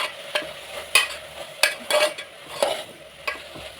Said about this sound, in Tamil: அது ஃபுல்லாமே இதில் சேர்த்துக்குவோம். நல்லா வதக்கிக்குவோம்.